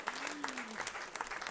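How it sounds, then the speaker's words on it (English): Audience clapping at a Climate Week NYC conversation as chef Dan Barber comes up to the stage: scattered, moderately quiet applause with a brief voice passing underneath. "Please give him a round of applause as he hobbles up here."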